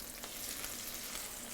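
Red mullet fillets cooking gently in a hot pan give a soft, steady sizzle, quiet and continuous with no talk over it.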